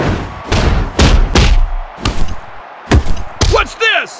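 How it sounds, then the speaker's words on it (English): Heavy thuds and slams in a WWE Mayhem wrestling game as a wrestler is driven onto the ring by an inverted exploder suplex, several loud impacts in quick succession followed by a swooping effect sound. "Ooh, the inverted exploder suplex!"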